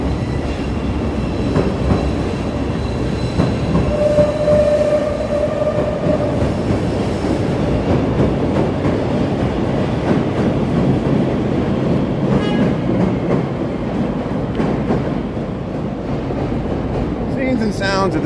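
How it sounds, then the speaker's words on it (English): A train rumbles past at a steady, loud roar with rattling wheels and a brief squeal, heard amid the broad noise of a busy city. "There's the green line heading around the loop here."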